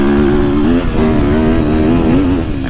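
A KTM 250 Factory Edition dirt bike runs on a trail with a loud, close engine drone that rises and falls slightly in pitch as the throttle shifts, heard without voices.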